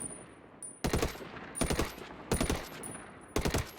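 Automatic gunfire in a video game comes in four sharp, loud bursts of rapid shots separated by short pauses, close and clean, with a faint high electronic tone between bursts.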